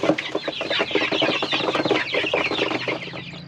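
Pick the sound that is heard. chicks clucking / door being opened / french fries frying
chicks clucking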